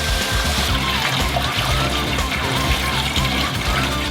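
Water from boiled potatoes being drained off, a steady splashing pour and trickle running continuously at close range, with no talk over it.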